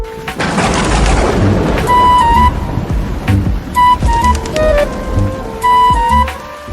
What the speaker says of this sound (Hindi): कई दिनों से लगातार बारिश हो रही थी।